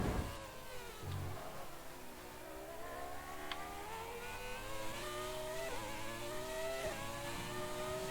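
A 1996 Williams FW18 race car in F1 2020, its engine screaming at high revs with shifting pitch as gears change, close and continuous, alone without talk.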